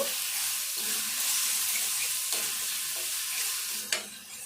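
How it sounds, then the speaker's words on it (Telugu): Fenugreek leaves and spring onions frying in oil for an egg curry, a steady soft sizzle with faint stirring scrapes and a sharper clink near the end. "ఇదంతా కూడా ఉడకాలి, ఈ నూనెలో మంచిగా ఫ్రై కావాలి"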